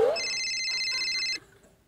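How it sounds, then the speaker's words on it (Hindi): A mobile phone rings on a comedy stage set, giving one steady electronic ringtone burst that cuts off abruptly after about a second. "मेरा फोन बजा"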